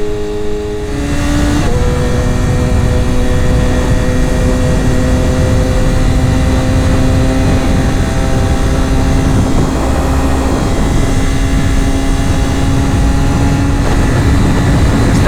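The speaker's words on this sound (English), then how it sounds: "These bikes are screamers. I just love the inline 4." A BMW M1000RR's inline-four engine revs hard while riding, a loud, high-pitched scream that climbs quickly at the start and then holds a sustained, steady whine throughout.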